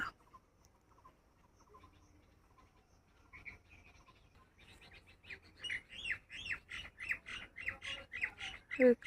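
Harsh squawking calls of a pair of common mynas grow louder in the second half, repeating in quick bursts at close range after a quieter stretch of faint background noise.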